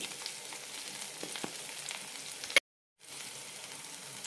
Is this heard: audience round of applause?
no